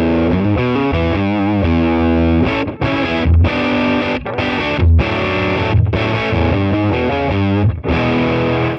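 Distorted electric guitar played through a Marshall Studio Vintage 20 amp into a Marshall 1936 cabinet, miked with a Royer ribon microphone; loud, saturated chords with brief stops between phrases, heard alone without talk.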